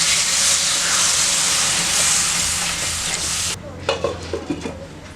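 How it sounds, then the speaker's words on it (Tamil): Water hits a hot pan of fenugreek kuzhambu with a loud, dense sizzling hiss that cuts off abruptly, leaving softer bubbling and clinks close by. "இப்போ நம்ம தண்ணி ஊற்றிடலாங்க."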